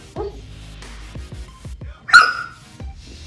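A dog gives a series of short, sharp barks and yips, spaced irregularly, close by, with one louder high bark near the end.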